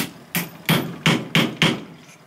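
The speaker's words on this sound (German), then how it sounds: "Jetzt nehmen wir einen Hammer" A hammer drives an aluminium sleeve onto a part with five sharp, evenly spaced metallic blows, close and clear over a quiet background.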